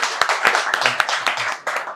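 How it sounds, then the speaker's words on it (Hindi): Students at a repair-training institute clap for a classmate, a small group giving loud, close, uneven handclaps in quick bursts that taper off. "इनके लिए तालियां बजनी चाहिए।"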